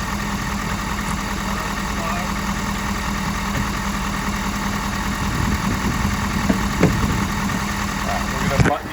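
A plow truck engine idles in a steady, even rumble with faint vibration, running continuously nearby with a few clanks and handling noises near the end.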